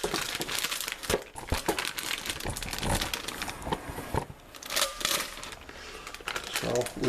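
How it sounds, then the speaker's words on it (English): A plastic freezer bag holding frozen potatoes is ripped and crinkled up close, with dense crackling and crumpling throughout and sharp tearing bursts. A voice talks beneath it. "I think I just ripped my bag."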